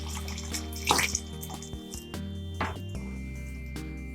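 Tamarind water pours into a pan of sautéed tomatoes for tomato rasam, a soft liquid splash and trickle with small drips and clinks, fairly quiet and close.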